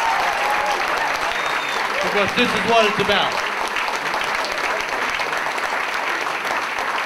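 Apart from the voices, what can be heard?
audience applause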